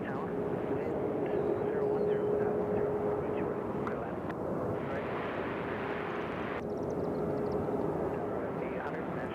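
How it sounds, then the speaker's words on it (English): A Southwest airliner taxis quickly at Nashville International Airport, a steady broadband jet engine rumble with a faint tonal whine holding throughout, continuous and moderately distant. "Southwest Air is going to San Diego, and they're doing the fast taxi."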